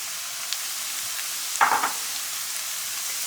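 Garlic and ginger paste frying in a pan for Indian aloo gobi, a steady faint hiss with one brief louder sizzle and stir burst midway.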